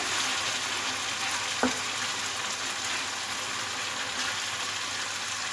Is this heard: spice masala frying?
yes